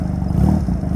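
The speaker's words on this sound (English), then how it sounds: "It's 1986 Honda Rebel." The small engine of a 1986 Honda Rebel motorcycle idles and revs briefly, a close, steady mid-pitched putter with a slight rise in the middle and light mechanical clatter.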